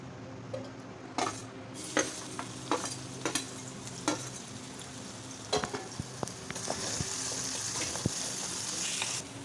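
Vegetables with green chillies fry in oil in a pan for a Kannada home meal, a soft continuous sizzle broken by repeated sharp scrapes and clinks of a stirring spoon.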